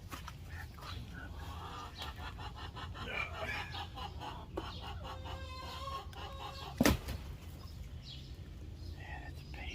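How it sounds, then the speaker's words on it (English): Chickens cluck and crow from inside a backyard coop, steady overlapping fowl calls at moderate distance, with a brief louder burst near the middle and a person speaking over them. "I hear you in there, chickens."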